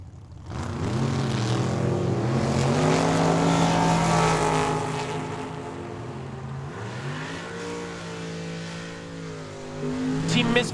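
A Camaro and a dragster launch side by side down a Tucson drag strip, loud roaring engines with rising revs that swell, ease off and climb again, the sound staying close, with an announcer talking faintly over it.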